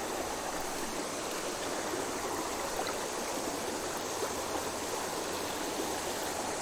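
Fast-flowing river water rushing past a rock, a steady broadband roar that fills the whole stretch without a break, close and continuous, with no one talking.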